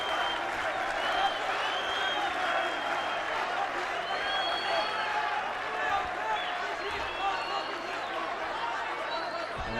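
Arena crowd at an MMA fight roaring and cheering continuously, with whistles and shouts rising over a dense, steady wash of noise and some voices underneath.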